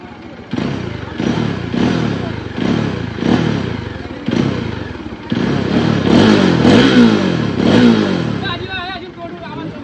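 Old Bajaj Dominar with a stock, non-decat exhaust and a Power Tronic unit fitted, revved repeatedly up close in a series of rhythmic throttle blips that build to longer, louder revs, with no one talking over it.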